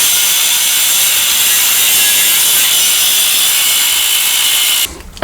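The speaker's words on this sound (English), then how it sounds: "I'm going to use an angle grinder because it's what we have on deck with just a thin cut blade" Angle grinder with a thin cut-off blade slicing through a weld on a 2WD RAM 1500 front suspension part. It gives a loud, steady, high-pitched grinding hiss that holds for nearly five seconds, then stops abruptly.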